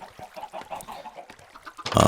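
Chickens clucking at a Minecraft chicken cooker farm, a string of short, irregular clucks close by, ending in a sudden loud burst of broadband noise.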